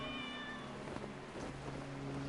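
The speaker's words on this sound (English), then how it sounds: "So we should be able to be hearing the cat." A cat meows in the video game Genshin Impact, a clear tonal meow near the start followed by a second softer meow, heard alone over a quiet game background.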